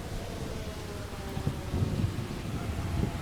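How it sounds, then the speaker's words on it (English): Steady, heavy rainfall rolls on beneath low, rumbling thunder that swells toward the middle, a dense continuous wash with no voices. "As the rain intensifies, Prince Bira's visibility diminishes"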